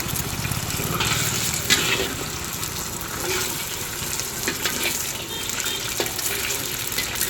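Egg sizzles and crackles in a hot pan for chicken fried rice, a close, bright, continuous frying hiss with small pops and a few scraping stirs.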